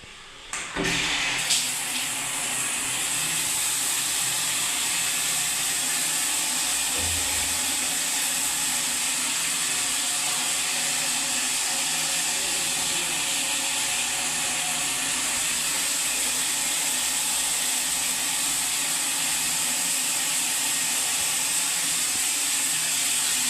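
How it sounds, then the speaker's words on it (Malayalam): A Grohe rain shower runs at full flow, a loud, steady, unbroken rush of falling water that continues without a pause. "ആദ്യം നമുക്ക് റെയിൻ ഷവർ ഓപ്പൺ ആക്കാം."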